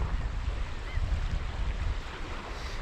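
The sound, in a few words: westerly wind over water, fishing from a boat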